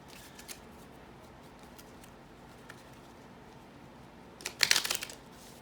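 A deck of soul journey cards being shuffled, one short crisp riffling burst near the end after a quiet stretch, close and soft, no talking.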